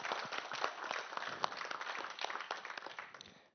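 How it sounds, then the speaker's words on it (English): Audience applause after a session at an international education conference, a dense even patter of many hands clapping at moderate distance with no talk over it. "A big round of applause."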